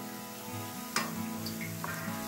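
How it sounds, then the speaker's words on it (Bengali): Sweet potato pantua balls frying in oil for a Bengali sweet, a steady soft sizzle with a few faint clicks as they are slowly turned. "সব দিকটা ঘুরিয়ে ঘুরিয়ে আস্তে আস্তে করে ফ্রাই করে নিতে হবে।"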